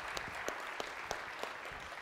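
Applause from a conference audience at a mobile health event, a steady wash of clapping with a few sharper individual claps standing out, moderately distant and filling the whole moment without speech.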